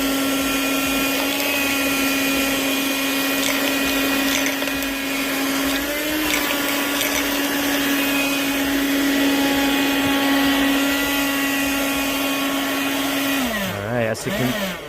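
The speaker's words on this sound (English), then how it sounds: "let's grab some coins here and try to vacuum them up guys" A 12V wet-and-dry car vacuum cleaner runs loud and steady close up, its motor whining continuously as it sucks up coins, with faint rattles and a drop in pitch near the end.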